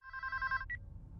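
A telephone rings in a scene from the Scream horror film, giving a bright, trilling electronic ring for about half a second, then a short second burst before it stops, with a low room rumble underneath.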